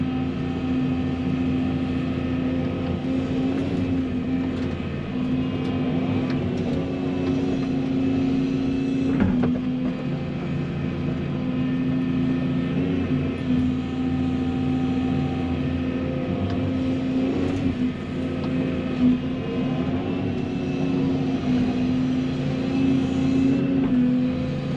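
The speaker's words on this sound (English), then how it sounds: "we'll rack up some dozer hours today as he continues to spread dirt" A bulldozer spreading dirt on a job site runs steadily throughout, its engine a continuous loud drone with a constant hum and no break.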